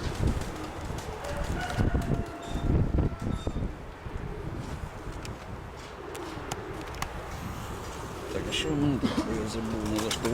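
Soft cooing from a flock of pigeons, some white-winged, carries through a loft over about ten seconds, steady low murmuring calls with occasional rustles and a voice in the background.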